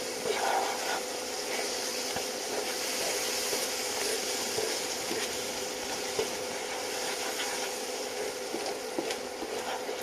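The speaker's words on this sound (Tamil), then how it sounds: "இப்போ நம்ம இதில் இந்த நாட்டு சர்க்கரை பாகு நம்ம ஊற்றிடலாம்." Jaggery syrup poured into a pan of roasted semolina while making rava kozhukattai, giving a steady, even hiss and sizzle that carries unbroken for about ten seconds at moderate loudness, with no talking.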